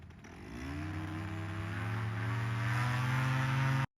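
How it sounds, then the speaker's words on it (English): A paramotor engine revs up to full throttle during a launch with a Dudek wing, a close, loud buzzing drone whose pitch climbs steadily over a few seconds before cutting off abruptly. "let's notice exactly when he goes full throttle"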